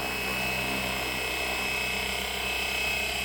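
A Flywing Bell 206 RC helicopter lifts off nearby with a steady, loud high-pitched motor whine and whirring rotor drone, holding constant throughout with no talking.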